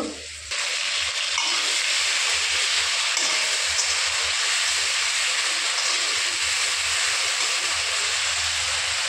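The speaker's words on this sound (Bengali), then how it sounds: "আমি এখন মশলা কষাচ্ছি" A spice paste of ground ginger, cumin and chili fries in oil after potatoes, a loud, continuous hissing sizzle that starts sharply and holds steady, with no voices.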